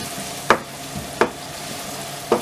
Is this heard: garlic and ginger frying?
yes